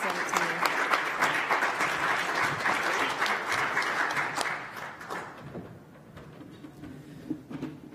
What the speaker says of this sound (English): join me in giving a round of applause to all the inductees for 2017.